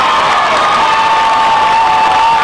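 A basketball crowd at a girls' regional final cheers loudly after a score, a dense, sustained roar of shouts and whoops that stays at full strength throughout.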